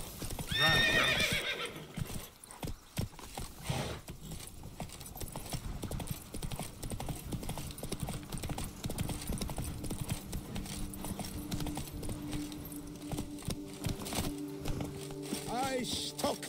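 A horse gallops in The Witcher 3: Blood and Wine, its hooves clopping in a fast steady rhythm from start to finish, with a whinny near the beginning and a brief voice partway through.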